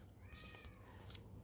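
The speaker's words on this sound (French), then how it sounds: "J'ai le chat qui est en train de miauler à la mort là-bas dehors" A cat meows outdoors at some distance, a faint drawn-out call over steady background hum, followed by a shorter second cry.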